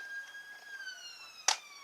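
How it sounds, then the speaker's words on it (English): A siren wails steadily in the distance, faint and drawn-out, with a brief sharp click near the end. "There's so many sirens today."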